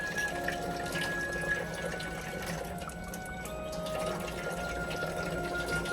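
Water flows steadily from an AlkaViva UltraPower water ionizer into a testing cup, a continuous close splashing stream with a faint steady hum underneath and no pauses.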